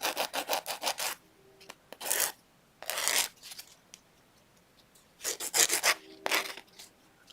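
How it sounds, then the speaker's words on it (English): A file rasps along the edges of a wire wrapped aqua chalcedony earring in quick bursts of short scraping strokes, separated by brief pauses, close and clear. "File the bottom. And then come through and get the edges, just like your nail file, just like you're filing your nails."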